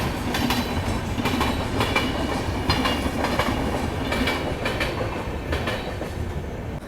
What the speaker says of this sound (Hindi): यहाँ से तो अंधेरे में दिख भी नहीं रही कौन सी ट्रेन है जो पास हो रही है अभी।